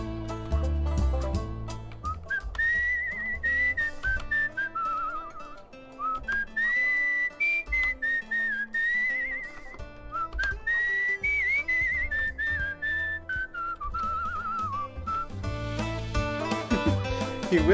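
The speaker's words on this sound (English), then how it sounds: "He whistles the main theme of the song that we're listening" A character in the video game Where the Water Tastes Like Wine whistles the main theme, a clear, wavering melody of sustained and gliding notes over a soft instrumental backing.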